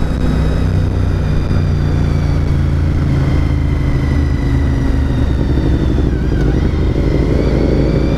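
A Honda RC51 motorcycle engine revs steadily in second gear at a rally, loud and close, with a continuous engine drone that holds through the whole stretch and shifts pitch slightly near the end.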